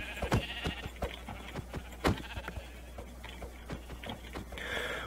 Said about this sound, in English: Oh, there's more sheep!